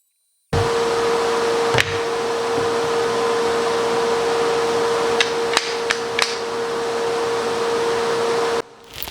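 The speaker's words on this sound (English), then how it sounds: "I like to go ahead and sand these while I have them in strips" Strips of exotic wood for coasters are machine-sanded, a constant loud whirring drone with a few sharp knocks, starting abruptly and cutting off near the end.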